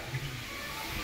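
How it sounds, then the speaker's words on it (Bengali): Water from a tap runs in a steady, close hiss and splash for about a second, with no voices. "কলে জল পড়ছে"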